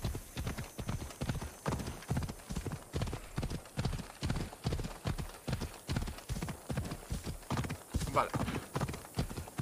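Galloping horse hooves in the video game Assassin's Creed Odyssey, a fast, even, continuous clip-clop that runs loud throughout, with a brief word spoken over it.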